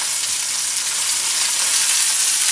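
Sausage sizzles steadily in hot oil in a pan for sausage, peppers and onions, a dense, even frying hiss held at a constant close level with no talk.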